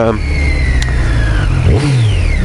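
Loud, close exhaust revving of a 2014 Triumph Street Triple R motorcycle, the engine note rising and falling sharply with a throaty rasp, with a voice briefly audible.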